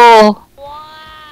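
A person makes a short, drawn-out meow-like sound with their voice after a brief spoken bit, imitating a cat.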